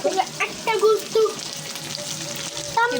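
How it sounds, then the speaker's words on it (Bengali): Meat frying in a pan on a home kitchen stove gives a steady, close sizzle with a crackling hiss throughout, and a few faint tonal clinks come and go over it. "মাংসটা ভাজা নিতেছি"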